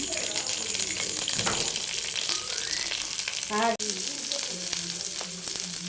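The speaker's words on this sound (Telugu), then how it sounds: "స్టవ్ మీద కళాయి వేసుకొని ఒక ఐదు స్పూన్లు నువ్వుల నూనె వేసాను" About five spoons of sesame oil heat in a kadai on a stove, giving a steady close sizzle and crackle with a few faint clinks and watery splashes.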